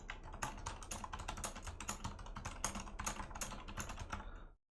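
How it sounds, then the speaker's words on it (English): Rapid computer keyboard typing, close and crisp, a busy run of clicking keystrokes that stops abruptly at the end. "now you hear the natural keyboard sounds"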